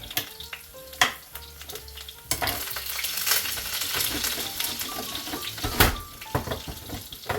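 Onions fry inside a Ninja Foodi XL, a close sizzle with scattered clinks and knocks from stirring, louder and busier midway, with no voices.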